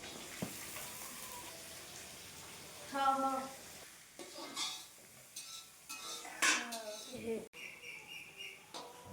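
A bucketful of mixed vegetables being cooked into labra in a large number-7 karai wok for a home Saraswati Puja feast, with intermittent clattering stirs and scrapes and a soft sizzle under background voices.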